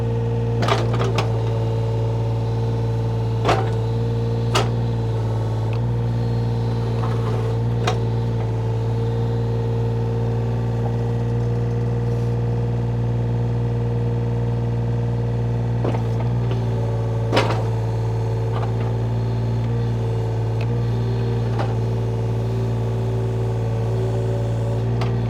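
A 2006 John Deere 35D mini excavator on rubber tracks swings its boom, its diesel engine holding a steady, loud hum throughout, with occasional sharp clicks and clanks from the hydraulics and machine.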